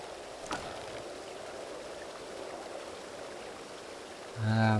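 Flowing water rushing and trickling continuously at moderate volume in the Das Schwarze Auge game, a steady stream with a brief click early on and a louder tonal sound entering at the end.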